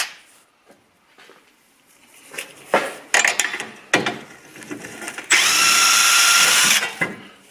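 Metallic clinks and tool handling lead into a loud, sustained whir of an impact gun running for about a second and a half, close by, while removing a rear shock absorber from a VW Golf GTI or Audi A3 8P.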